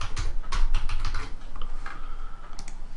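Rapid typing on a computer keyboard while entering a short page title, a steady run of close, crisp key clicks with irregular rhythm and no voices.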